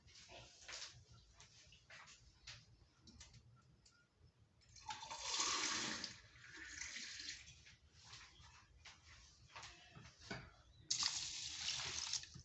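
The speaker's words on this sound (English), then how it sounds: "Then you will put more water." Water poured over washed rice in a bowl, splashing in two fuller bursts mid-clip and near the end, with smaller trickles and handling noises between, close and moderately loud.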